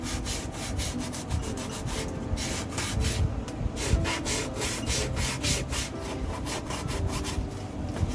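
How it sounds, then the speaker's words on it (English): Mosaic tiles are sanded to remove dried excess grout, giving a loud, close, continuous abrasive rasping with rapid rhythmic back-and-forth strokes and no talk. "So you're just going to sand the extra off."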